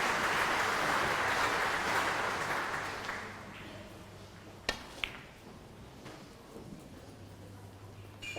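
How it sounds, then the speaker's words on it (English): Applause from other tables at a women's snooker tournament final: a broad wash of clapping, moderately distant, fading out over a few seconds, followed by a couple of sharp knocks in a quiet hall. "you can hear the applause from the other tables"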